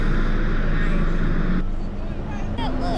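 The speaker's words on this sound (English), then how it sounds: "Listen to that engine." The engine of a 2019 Honda Civic runs at a steady idle, a continuous low hum heard close, with a voice speaking briefly over it near the end.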